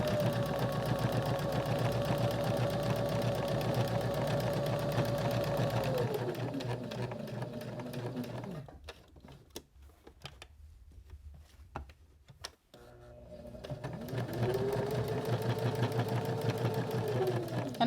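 A sewing machine stitches fabric for a DIY sewing kit, a steady motor whir running for several seconds, pausing near the middle as the needle is stopped and the project turned, then resuming its even stitching.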